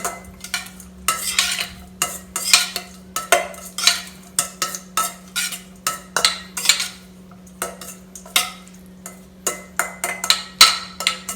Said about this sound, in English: So we're just going to combine all these ingredients, mix it together.